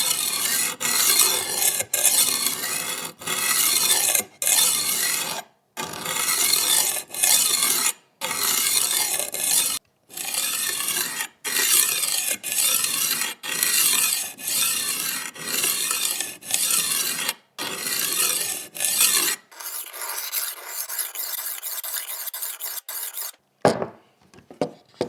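A knife blade is drawn back and forth on a cheap knockoff rolling sharpener, giving repeated loud raspy grinding strokes in a steady rhythm separated by short pauses, followed by a quieter stretch of lighter scraping.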